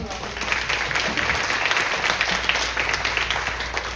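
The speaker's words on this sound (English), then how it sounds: "another really great round of applause for Maria." Applause from the audience at a women-in-AI panel event, a steady, moderately quiet patter of many hands clapping that continues evenly throughout.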